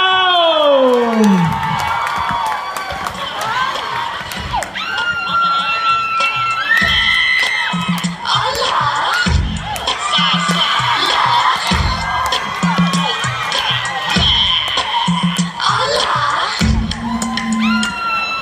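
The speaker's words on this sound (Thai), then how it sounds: "ขอเสียงปรบมือดังๆให้กับเพชรสัจกร" A loud crowd cheers and whoops continuously, with shouting voices layered over scattered clapping throughout.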